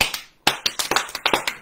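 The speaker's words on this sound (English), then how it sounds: "Big round of applause for Clark." A small studio group gives a round of applause for a co-host on a talk show: a quick cluster of sharp, close hand claps, some overlapping, after one opening clap and a short pause.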